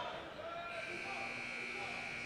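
A basketball arena buzzer sounds at the end of a university game, a steady buzzing tone running throughout with faint crowd and commentary underneath.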